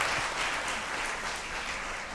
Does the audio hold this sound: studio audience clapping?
yes